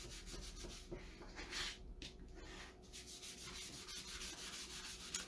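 A cloth rubs stain into and off a wooden Chalk Couture sign in steady, close back-and-forth strokes, soft and continuous with no talking.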